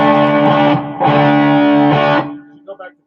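An electric guitar through an amp's distortion channel rings out in two thick, sustained chords separated by a brief gap, then fades as a few faint picked notes follow.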